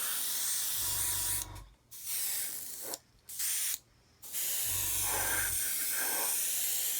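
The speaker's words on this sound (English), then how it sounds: "Yeah, I'm spraying this now." Broadband hissing bursts from a spray gun spraying primer, two long and a few short pulses separated by brief pauses, loud and close with no talking.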